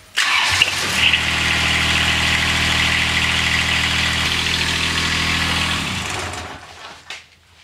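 A motor on the hydraulic pump of a Toro Greensmaster mower runs steadily with a low, even drone for several seconds, then winds down and stops, leaving a faint click.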